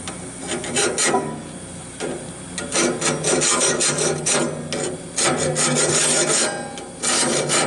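Rasping, rubbing grind of a Woodland Mills LT15 sawmill band blade being sharpened, a steady close scraping that surges and dips in repeated passes with brief pauses, no talking.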